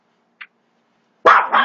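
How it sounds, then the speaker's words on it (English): A dog gives one short, sharp bark close by, after a faint yip a moment earlier, with silence around both sounds. "mind the dog's barking"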